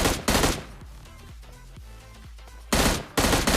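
Bursts of rapid gunfire from a shooting video game, loud and dense at the start and again near the end, with quieter single shots and thuds in between.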